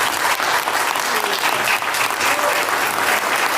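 Dense, sustained applause from a large audience fills the whole span, steady and close with no pauses and no talk over it.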